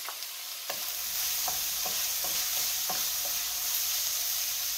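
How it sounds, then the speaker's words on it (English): Onions, pepper, garlic and carrots sizzle in a pot for a one-pot chicken and couscous dish, a steady frying hiss broken by several stirring scrapes and clacks of a utensil against the pot. "my onions and my pepper and garlic have been cooking for about 1 or 2 minutes. I'm going to add my carrots back in here."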